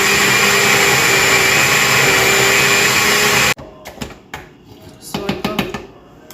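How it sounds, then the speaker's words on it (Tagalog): An electric blender whirs loudly and steadily while blending homemade hot sauce ingredients with salt, sugar and seasoning mix, then cuts off abruptly, leaving quieter clatter and handling noises. "Tapos, i-blend na."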